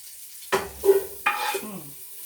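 Tomato chutney cooking in a pot: two sharp metallic clanks with stirring scrapes and a brief sizzle, close by and without talk.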